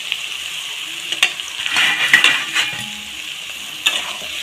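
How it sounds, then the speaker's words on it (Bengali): Semolina stirred in a frying pan with sautéed vegetables for a semolina pulao, giving close scraping strokes and soft sizzling that swell in short bursts over a quiet background. "সুজিটা দিয়ে আমি 2-3 মিনিট এইভাবে নাড়াচাড়া করেছি।"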